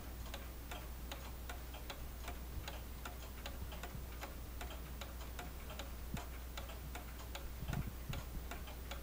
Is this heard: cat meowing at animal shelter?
no